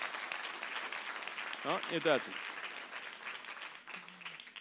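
Applause from a magic show audience after a card trick, a brief scattered clapping burst with murmuring voices and a short whistle-like tone rising above the crowd.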